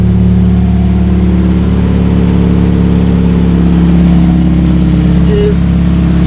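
A Chevrolet Ecotec engine idles steadily just after an oil change, a constant mid-pitched hum with a faint whir running throughout at close range, no voices over it.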